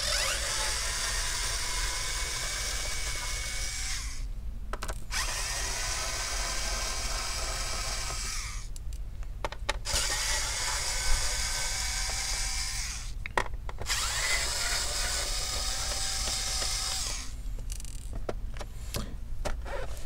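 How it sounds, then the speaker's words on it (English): Power screwdriver removing screws from an HP 17 laptop (BY3056CL) during disassembly: several sustained whirring bursts of a few seconds each, separated by short pauses and faint clicks, close to the microphone. "let's go ahead and start removing some of the screws"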